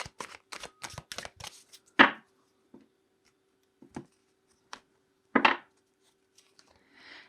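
Tarot cards are shuffled by hand in a quiet room: a quick run of soft riffling slaps and taps, then a few louder scattered card snaps with pauses between them.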